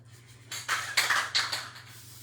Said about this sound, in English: This is Mod Podge spray. I sealed everything with this.